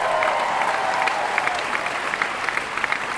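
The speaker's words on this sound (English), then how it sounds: "So let's give them a big round of applause." A large Comic Con panel audience applauds steadily for a lineup of cast members, a dense, continuous wash of clapping with a faint whistle near the start.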